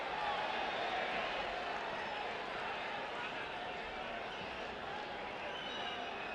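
A stadium crowd at a Bonaire vs El Salvador Concacaf Nations League football match keeps up a dense, steady roar of cheering throughout.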